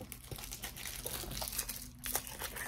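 Plastic packaging is torn open with teeth, producing close, quiet crinkling and crackling with small tearing bursts in an irregular rhythm.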